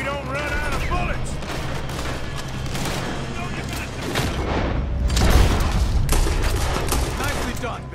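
Loud rapid gunfire and bursts of shots ring out in a Red Dead Redemption 2 gunfight, dense and continuous, with game characters speaking over the shooting.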